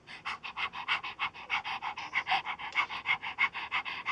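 A person imitates a puppy dog, panting quickly and rhythmically in short breathy puffs, close and fairly soft, during a baby yoga class.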